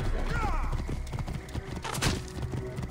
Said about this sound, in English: This horse is wild quick, much quicker than my horse.